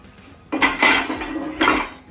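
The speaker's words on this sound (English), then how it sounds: "I'm gonna turn my heat down and I'm gonna cover this" A lid set onto a pot of slow-cooking ragù Bolognese, two close metallic clattering bursts of lid against pot rim with brief ringing, the second shorter, over a quiet background.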